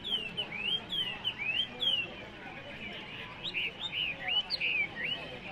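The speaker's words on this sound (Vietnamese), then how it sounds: "Đấy, con kia hót ác nhỉ." A songbird sings at the hillside Sín Chéng market in northwest Vietnam, with short, bright, rising and falling whistled phrases repeated in quick bursts over a faint background murmur.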